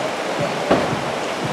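A creek swollen about four feet after heavy rain, rushing almost up to a bridge, gives a loud, steady roar of turbulent water with one brief knock partway through.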